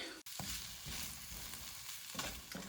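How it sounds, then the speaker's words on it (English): Onions and meat fry in a pan for stuffed peppers, giving a steady close sizzle with occasional scraping stirs and a brief break near the start, with no one talking. "Look at these onions, okay? They've been caramelizing now, about 20 minutes."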